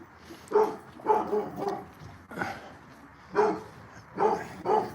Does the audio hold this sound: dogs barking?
yes